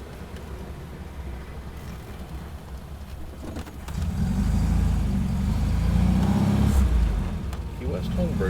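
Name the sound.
1970 MGB sports car driving around Key West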